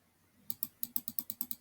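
A rapid series of about nine crisp, evenly spaced clicks, like a computer mouse button pressed repeatedly, close and sharp after a moment of silence, with no talking.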